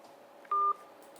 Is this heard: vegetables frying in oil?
no